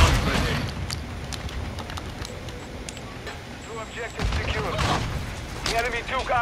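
Shotgun blasts in a first-person shooter video game, several loud bursts spread through the clip amid game noise, with excited voices talking over them.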